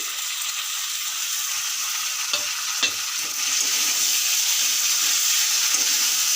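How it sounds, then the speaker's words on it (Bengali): Tomato paste goes into chicken kosha frying in a pan, bringing a steady sizzle with stirring scrapes and a couple of sharp utensil knocks midway, the frying growing a touch louder afterward. "টমেটো বাটাটা দিয়ে দিচ্ছি"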